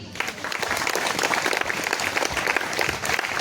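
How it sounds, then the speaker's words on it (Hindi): A youth gathering at a Catholic youth convention in Nawadih claps for a welcomed priest, a short, lively burst of dense hand-clapping that stays close and loud throughout. "तो आइए हम फादर पेट्रुस बार्ला को जोरदार ताली करेंगे।"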